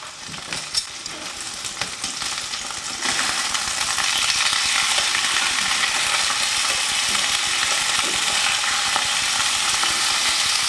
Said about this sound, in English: I think these are ready to flip over here now.